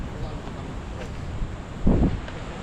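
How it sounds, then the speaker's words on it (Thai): Strong wind buffets the microphone at Diamond Beach on Nusa Penida, Bali, a steady low roar with a louder gust near the end. "ลมแรงมาก"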